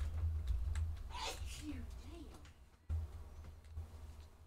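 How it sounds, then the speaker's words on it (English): A single brief sneeze bursts out from a person in the background at a railroad yard near a caboose, faint and distant under low rumbling ambience, with faint vocal sounds around it. "that was someone sneezing in the background"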